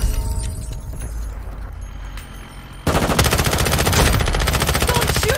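Gunfire in the Warzone Mobile shooter: a few scattered shots and quieter background, then a sudden burst of rapid, close automatic fire that rattles on loudly to the end.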